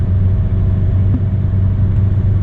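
Diesel 1.3 Fiat Linea cruising in fourth gear on snowy roads, a loud steady low engine drone with road rumble from inside the cabin, continuous and even, no speech.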